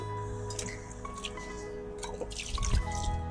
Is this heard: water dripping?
yes